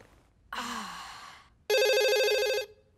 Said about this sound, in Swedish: Så, telefonen ringer, stor grej.